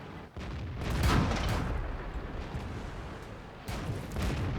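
A tank gun fires in quick succession in World of Tanks, tank destroyer JT 88. There are a few heavy booming shots with rumbling decay, loud and close under continuous battle noise.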